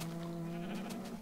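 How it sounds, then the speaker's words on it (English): A single sheep bleat in Minecraft, a short wavering tonal cry that is fairly quiet and heard alone without talking. "The sheep seem to be doing just fine."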